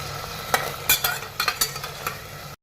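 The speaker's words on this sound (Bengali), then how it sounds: "আমি আদা রসুন পেস্ট দিলাম, এরপর পেঁয়াজের পর এটাকে আমি একটু কষিয়ে নিই।" Onion sizzles with ginger-garlic paste in a pan for a Bengali chicken curry, under several sharp, uneven stirring scrapes and clatters close by, with no speech.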